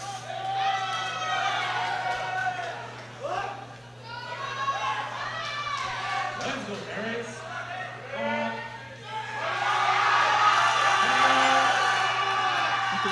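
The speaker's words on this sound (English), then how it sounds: "And some chants coming from the crowd" Crowd at a junior powerlifting world championship chanting and cheering in rising, rhythmic waves. A commentator speaks over it, and the noise swells loudest near the end.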